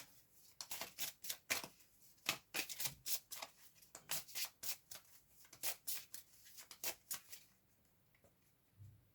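Tarot cards shuffled and dealt in a rapid run of crisp riffling flicks and slaps, close up and fairly quiet, continuing steadily for several seconds before trailing off, with no voices.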